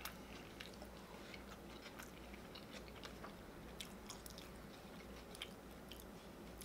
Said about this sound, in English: Enjoying the Travis Scott meal at McDonald's.